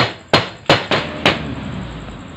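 A rubber mallet strikes a motorcycle part four times in quick, uneven succession, each blow a sharp close thud with a short decay, followed by quiet.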